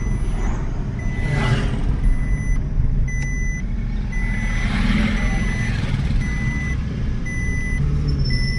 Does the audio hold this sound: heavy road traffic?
yes